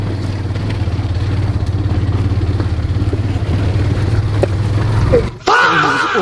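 A motorcycle ridden at night, its engine droning steadily and fairly close for several seconds before a sudden shift to a louder, rougher burst near the end.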